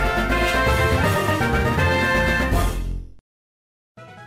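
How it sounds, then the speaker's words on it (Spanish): Loud, dense game music from Pokémon Uranium, overpowering the rest of the game audio, plays steadily for about three seconds, cuts to silence, then resumes faintly near the end. "Cuando suena así, la música está completamente descompensado con el resto de audio del juego"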